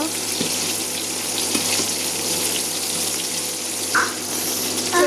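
Shrimp frying in a pan give off a steady, close hiss of sizzling oil that holds for several seconds, with one brief higher blip near the end and no voices.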